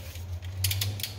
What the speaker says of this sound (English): And now Jeff is going to take the torque wrench